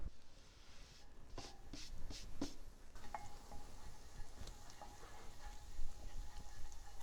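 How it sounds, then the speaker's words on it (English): Fresh sage and rosemary frying in a tablespoon of olive oil in a pan over medium-high heat, a soft steady sizzle with a few light clicks and taps of utensils near the start, fairly quiet with no talking. "We want to fry this up a little bit"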